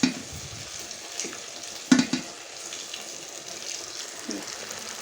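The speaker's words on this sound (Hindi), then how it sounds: "घी में हमने डाल दिए।" Small chicken samosas frying in hot ghee make a continuous close crackling sizzle, with a sharper burst as one drops in, steady and without talk.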